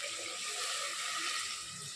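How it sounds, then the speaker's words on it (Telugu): Water is poured steadily into a pan of mutton curry, a continuous bright gushing pour at close range with no talking over it. "నేను కొన్ని వాటర్ పోసుకుంటాను"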